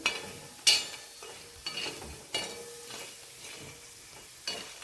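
Moong vadi being stir-fried in oil in a pan, a low steady sizzle broken by a handful of sharp spatula scrapes and knocks at irregular intervals, close.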